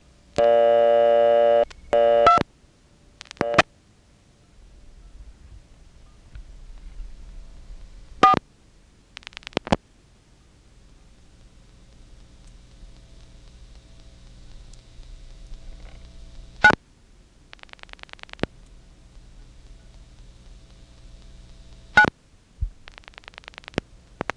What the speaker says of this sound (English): So let's dial 24 and see if that's really vacant.